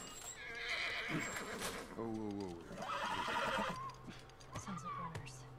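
A horse whinnies loudly in The Last of Us, with hoof clip-clops and people talking over it, one voice exclaiming.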